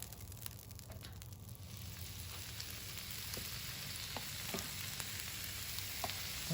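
Ribeye steak frying on a flat griddle for a Philly cheesesteak, giving a steady, fairly quiet sizzle with soft crackles that continues alone throughout.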